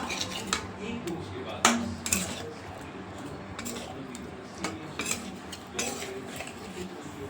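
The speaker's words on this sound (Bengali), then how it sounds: "দিয়ে দিলাম তরকারির মধ্যে কাসুরি মেথিটা, দিয়ে ভালো করে একটু নেড়ে নেব" A spoon scrapes and clinks against a pan while curry with kasuri methi is stirred, giving irregular metallic knocks and scrapes, with faint talk in the background.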